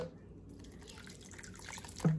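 Water trickles and drips in a home kitchen while turkey and pork longaniza is being made, a steady soft splashing with a brief louder splash at the very end.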